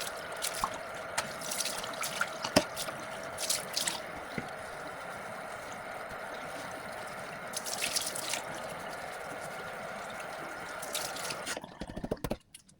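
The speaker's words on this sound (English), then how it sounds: "again we're going to rinse it off" Running water rinses a composite kitchen sink, a steady splashing flow with a few louder drips and splatters, continuing alone until it cuts off near the end.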